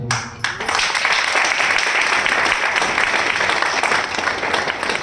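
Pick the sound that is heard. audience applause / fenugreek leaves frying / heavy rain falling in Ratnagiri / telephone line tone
audience applause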